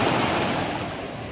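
Adriatic Sea waves wash in a continuous, loud roar of surf, with some wind noise on the microphone and no voices.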